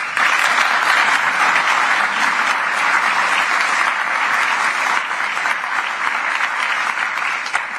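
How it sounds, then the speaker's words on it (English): Loud, sustained applause from a large audience at a European debate for President Roberta Metsola, dense continuous clapping that holds steady for the whole stretch with only slight dips. "I think it was an applause for you"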